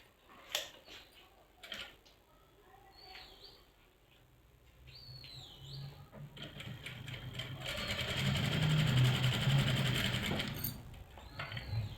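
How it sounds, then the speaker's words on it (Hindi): A sewing machine runs steadily while stitching around the neckline of a frock, its buzzing motor rising through the second half alongside faint ticks and a few chirpy squeaks, with no talking over it. "तो नेक को इस तरह से सेंटर मिलाते हुए सबसे पहले हम एक सेंटर की सिलाई लगाएंगे नेक"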